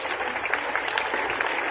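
An audience at a Hindi comic poetry recital applauds in a dense, even patter of many hands, steady and fairly loud across a short stretch.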